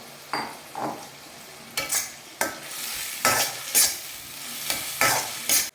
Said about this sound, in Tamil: இந்த ஸ்டேஜில் நம்ம உருளைக்கிழங்க சேர்த்துக்கலாம்